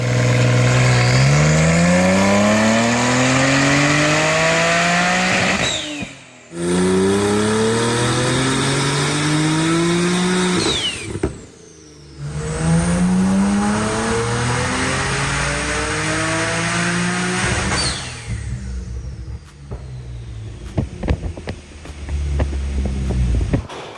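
A Porsche 992 Turbo S engine revs hard on a dyno in long rising pulls, climbing and dropping in pitch several times, loud and close, with brief pauses between runs.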